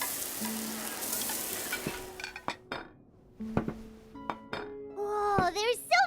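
Food being cooked in the Genshin Impact video game: clinks of dishes and utensils, stirring and a sizzling pan, a series of sharp clatters over a game music backdrop, growing busier toward the end.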